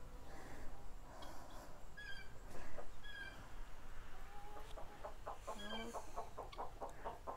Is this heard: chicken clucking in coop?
yes